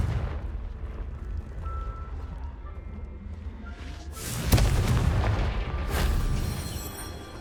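A Confringo fire spell in Hogwarts Legacy strikes with a sharp blast and a deep, rolling boom partway through, and a second burst follows shortly after, over a low game ambience.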